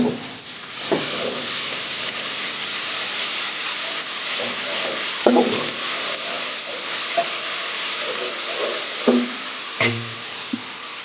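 Garlic paste sizzles in a hot pan for chicken biryani, a steady broadband hiss with scattered clicks and pops and a few light stirring knocks, close and continuous throughout.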